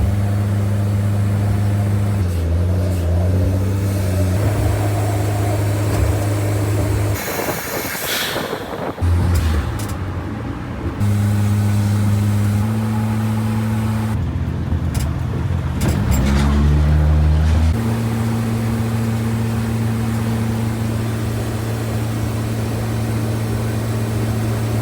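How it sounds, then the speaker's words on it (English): A 25-year-old Daihatsu Mira kei car driving on a long road trip, its engine drone steady and close throughout with gear changes and shifting revs, continuous and loud with no talk. "let me start driving."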